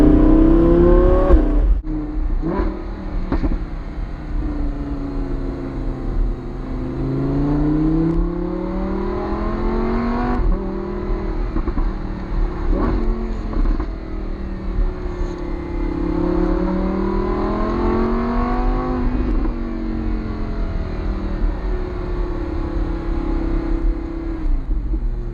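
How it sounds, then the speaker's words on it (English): A Lamborghini Huracan Spyder with a 600 brake horsepower V10 and all-wheel drive is driven hard, its engine rising and falling through repeated revving sweeps and gear changes, loud and continuous from inside the car with no speech. "Forget the soundtrack for a second, we are in a 600 brake horsepower V10."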